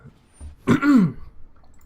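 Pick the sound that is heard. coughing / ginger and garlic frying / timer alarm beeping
coughing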